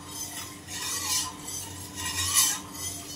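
A spoon stirs milk continuously in a pot as it comes to a boil, with soft scraping strokes against the metal in a loose repeating rhythm, close and moderately loud, no talking.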